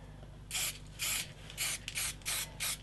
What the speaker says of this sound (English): So you kind of got to draw with the spray paint to go